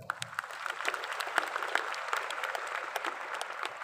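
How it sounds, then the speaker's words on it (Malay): An audience at a business seminar gives a round of applause, a dense, even patter of many hands clapping at a moderate distance, with no voices over it. "Bagi satu tepukan."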